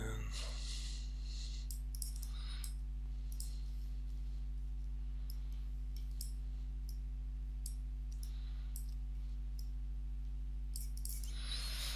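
Sharp, faint mouse clicks come at irregular intervals while edge loops are selected in 3D modeling software, over a steady low electrical hum.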